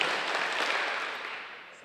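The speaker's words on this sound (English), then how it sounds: "Clap 4 times." An audience applauds as one continuous wash of hand claps, fairly loud and close, slowly fading toward the end with no distinct count of four separate claps.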